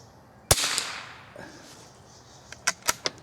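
CCI Subsonic 45 grain .22 LR rifle rounds fire at a target outdoors: one sharp, close crack, then after a pause four quick shots in succession, each a short snappy report with faint echo and no talking.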